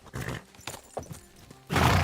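A horse in the medieval video game Kingdom Come Deliverance 2. A few light hoof clops are followed by a loud, close whinny that ends the moment.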